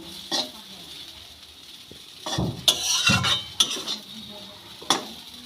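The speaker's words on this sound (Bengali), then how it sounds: "জল দিয়ে এরকম করে নেড়ে চেড়ে সুজির উপমা তৈরি করতে হবে" A spoon stirs semolina upma with water in a pan, giving intermittent scraping and clinking strokes with faint bubbling between them, close and moderately loud.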